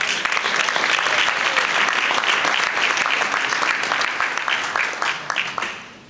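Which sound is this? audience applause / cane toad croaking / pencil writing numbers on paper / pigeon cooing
audience applause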